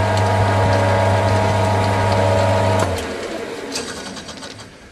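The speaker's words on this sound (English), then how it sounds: "I'll just turn the lathe on for a sec." A metal lathe turns a piece of aluminium that runs off true, giving a loud steady mechanical hum with a whirring tone that drops away partway through as the machine winds down.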